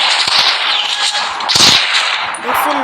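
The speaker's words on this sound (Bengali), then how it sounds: "দেখছেন কত গুলি হচ্ছে।" Rapid video-game gunfire bursts crackle close and loud in uneven clusters, with sharp broadband cracks standing out over continuous game noise.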